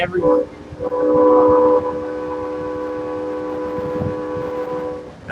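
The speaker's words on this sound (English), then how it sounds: "every crossing, the train's got to blow its horns for security features, daylight or nighttime" A loud, sustained Amtrak Empire Builder train horn sounds at a crossing with steady multi-tone blasts, holding for several seconds before trailing off, with rumbling rail noise underneath.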